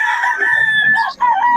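A rooster offered for sale crows in one long, loud, close call that dips briefly near the end and then carries on.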